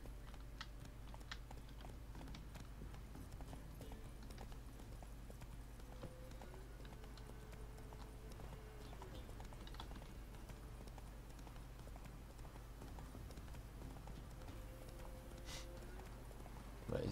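Hoofbeats of Roach the horse galloping in The Witcher 3, a quick steady clip-clop rhythm kept up throughout, fairly faint under quiet game ambience and clicking.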